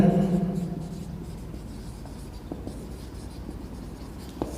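Marker or chalk scratching on a board in a Hindi-medium math lesson, a run of soft rubbing strokes with a few sharp taps, heard close after a brief burst of a low voice at the start.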